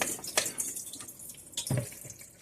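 Salted sunflower seeds rinsed under running water, with irregular splashes and sloshing bursts rather than a steady stream, close and moderately loud.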